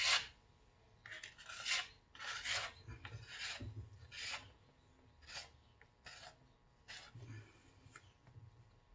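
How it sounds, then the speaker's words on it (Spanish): A plastic scraper rasps across plaster (escayola) in repeated short scraping strokes, close up, with brief pauses between passes and no talking. "Puedo rascar bien. Rasco de dentro hacia afuera"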